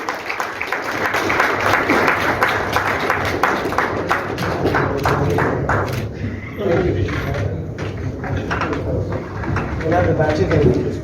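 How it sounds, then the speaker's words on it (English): An audience applauds for the Chhattisgarh Tourism Board at the WCCF Chhattisgarh chapter launch event, and a speaker's voice carries over the clapping. "Can we have a big round of applause for Chhattisgarh Tourism Board?"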